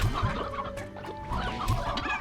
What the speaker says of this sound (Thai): เฮ้ยนี่ไก่ลายใหม่ว่ะ